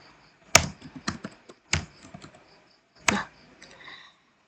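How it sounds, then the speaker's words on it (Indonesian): Someone types a command on a computer keyboard: a handful of sharp, separate keystroke clicks with uneven gaps and softer taps in between, close and fairly quiet, with no talking. "mengetik perintah IP address."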